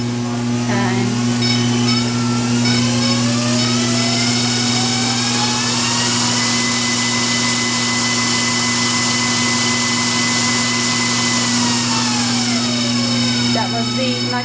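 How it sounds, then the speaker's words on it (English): A Lawson Hemphill FAK knitting machine running at maximum speed gives a loud, steady mechanical whir with a constant hum that rises slightly in pitch and then settles, continuous throughout. "that was the maximum speed of the machine."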